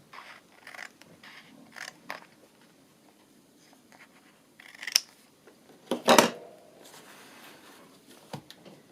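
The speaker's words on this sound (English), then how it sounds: "I'm going to have to trim it just a little bit more" Scissors make a series of small snips and crisp crunches while trimming a cut-up book cover, irregular and close, with scattered quiet handling noises between cuts and no speech.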